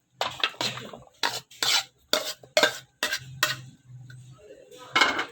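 Cut fruit, including banana, halved grapes and apple, is tossed and mixed with a spoon in a bowl. About a dozen close, distinct scraping and clinking strokes come in uneven bursts, separated by short pauses.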